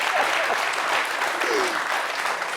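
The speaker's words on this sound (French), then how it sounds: "vous applaudissez, et vous me regardez" Studio audience applause on a French-language entertainment show, a dense, steady wash of clapping at moderate distance with faint voices mixed in.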